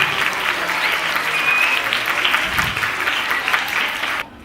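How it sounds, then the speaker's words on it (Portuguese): An audience at a Congado talk gives loud, steady applause for Mestre Aldo, a dense wash of clapping that carries on evenly and then cuts off near the end. "Palmas para ele, então, gente."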